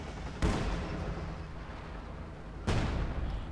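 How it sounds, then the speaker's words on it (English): A field gun artillery barrage in Company of Heroes 2 lands as two heavy booming impacts about two seconds apart. A continuous rumbling battle din carries on beneath and between the blasts. "Field gun barrage."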